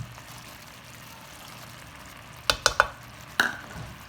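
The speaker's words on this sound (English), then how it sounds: "Then stir some more." A spoon stirs cream and melted Parmesan in a pan on the stove: a faint simmering hiss, then a few sharp scraping clicks against the pan, followed by one more clack.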